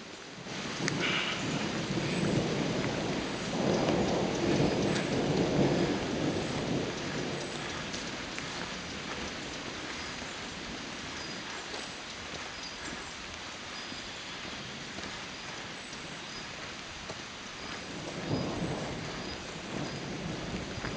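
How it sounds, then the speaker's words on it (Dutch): Thunderstorm breaking over a walking route between Geilenkirchen and Aachen: steady rain on surfaces throughout, with low rumbling thunder swelling early on and again near the end, heard from outdoors at moderate distance. "Het onweer is losgebarsten."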